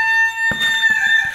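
Chickens that have just been fed cluck and call in a short, loud burst close by, with sharp, repeated squawks over a sustained tonal call.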